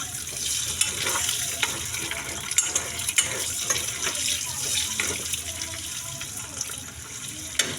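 Eggs frying in plenty of oil for a non-veg curry, a continuous hiss and sizzle with small scattered pops and splutters, close and moderately quiet, no talking.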